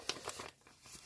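A packet of paper envelopes crinkles and rustles as it is handled, several quick crisp bursts close up, quiet and without talk.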